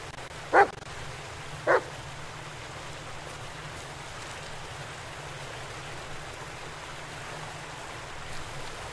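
A dog barks twice, short and distant, early on in the Blair Witch game, over a steady hiss of rain-like ambience that continues alone afterward.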